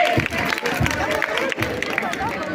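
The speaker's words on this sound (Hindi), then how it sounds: "तो क्लास में मुझे बच्चों के लिए एक बार फिर से तालियां बजाइए।" At a school annual function celebrating a silver jubilee, a crowd claps for the children, a busy mix of applause and crowd babble with voices throughout.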